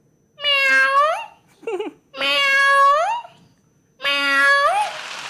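A human voice imitates a cat, giving three long, drawn-out meows with a short warbling call between them. The calls are loud and close, performed alone on a mimicry stage show.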